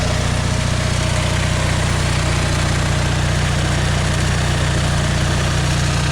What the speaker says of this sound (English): The engine sounds like it's running calmer, or a little bit smoother.